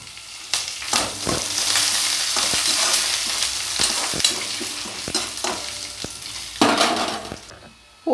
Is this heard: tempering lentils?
yes